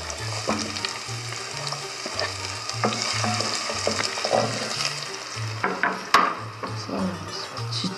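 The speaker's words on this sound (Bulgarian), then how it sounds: "Сега ще сложим лучица." Chopped onion sizzles steadily in a hot frying pan while a utensil stirs and scrapes against the pan in irregular strokes, with a sharp clink of metal partway through.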